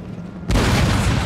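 Cannon fire in the Empire: Total War video game lands as one heavy, sudden boom that rolls into a dense, loud rumble.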